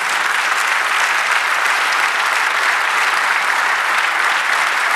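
A church congregation applauds during a sermon, a loud, steady wash of many hands clapping that holds evenly for the whole stretch with no voices on top.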